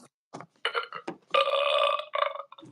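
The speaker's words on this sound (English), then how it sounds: "That was a baby we were burping" A baby burps several times in a row, close up, with short wet bursts and one long drawn-out belch in the middle.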